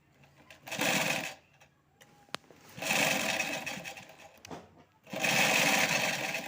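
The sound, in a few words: overlock sewing machine sewing a pocket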